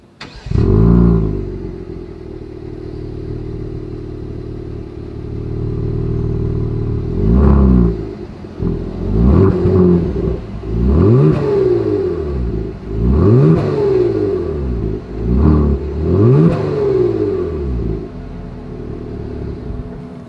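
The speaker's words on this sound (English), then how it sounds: "As always, here is that exhaust clip." A 2021 Genesis G70's V6 exhaust idles with a deep rumble, then revs repeatedly in sharp bursts that rise and fall, five or six throttle blips in a row.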